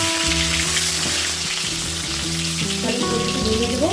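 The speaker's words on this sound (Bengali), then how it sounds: "আলুটা ভেজে নিচ্ছি" Boiled potatoes fry in hot oil with a steady, loud, continuous sizzle and crackle, alone with no voices, while a low steady hum from a kitchen appliance runs underneath.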